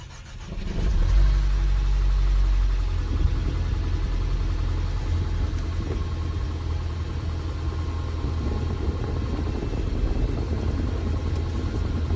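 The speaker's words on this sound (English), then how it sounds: "there are some, I think, extra noises coming from the engine. Like a knocking sound" A 2018 Mercedes with about 160,000 miles cranks and catches with a low rumbling start, then settles into a steady idle, heard up close with no talking.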